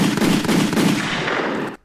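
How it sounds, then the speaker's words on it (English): Gunshot sound effects played on a gaming podcast: a loud, dense burst of rapid gunfire lasting under two seconds and then cutting off abruptly. "Give me the gunshots, Tom."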